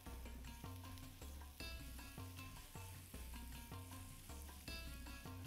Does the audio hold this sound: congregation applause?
no